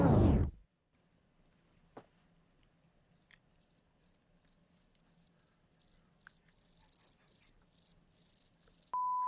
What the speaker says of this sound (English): It's a lot of crickets there